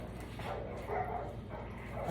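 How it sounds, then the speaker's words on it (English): Dogs barking and yipping excitedly at the smell of a raw whole cow liver, short bursts close by with some whimpering and a person talking over them. "The dogs are a little wound up smelling this and knowing I've got this"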